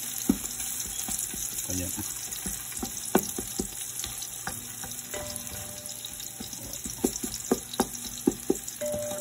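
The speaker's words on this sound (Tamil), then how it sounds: "இப்போ பார்த்தீங்கன்னா வெங்காயம் நல்லா வதங்கிட்டு பொன்னுரமாக நல்லா வந்துட்டு" Onions fry in oil for biryani, a constant close sizzle punctuated by sharp clicks and scrapes of stirring, with a brief word spoken partway through.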